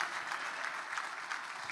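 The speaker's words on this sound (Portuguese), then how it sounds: "Você pode aplaudir e glorificar o nome do Senhor nesta manhã?" A church congregation claps steadily through a Sunday morning service, a dense, even wash of many hands at moderate distance with no voices over it.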